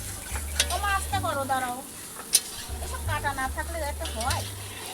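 Potatoes frying in a pan over a clay stove at an outdoor birthday cook-up, a steady sizzle running under lively nearby talk, with a sharp clink partway through.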